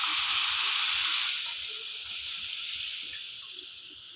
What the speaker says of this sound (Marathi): आणि आता जी आपण डाळ शिजवून घेतलेली आहे ना ती याच्यात टाकूया.